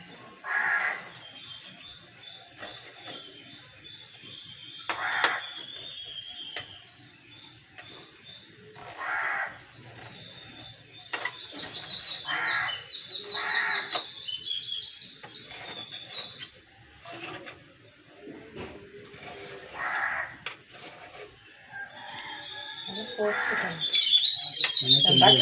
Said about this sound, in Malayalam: ഇവിടെ കിളി, പ്രാവ്, ഏറ്റവും കൂടുതൽ കാക്കണം ഇവിടെ